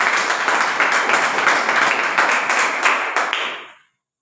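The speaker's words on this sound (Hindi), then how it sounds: "तालियां होनी चाहिए।" An audience claps together through a business plan presentation for a wellness company, a dense steady patter of many hands that holds briefly and then stops.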